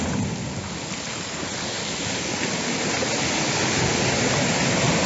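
Steady, roaring wash of surf crashing on a shore, a dense, continuous rush of water noise that swells slightly louder toward the end.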